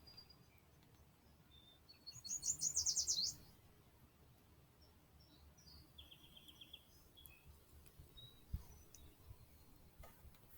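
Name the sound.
birds chirping outdoors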